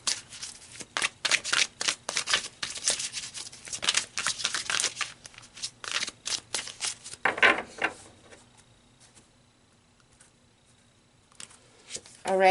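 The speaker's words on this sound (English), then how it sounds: "let's pull some more cards here" Tarot cards being shuffled by hand, a long run of quick papery riffles and flutters in bursts close to the microphone, trailing off into quiet handling near the end.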